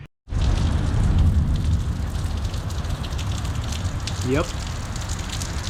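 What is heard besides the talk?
heavy rain falling outside a garage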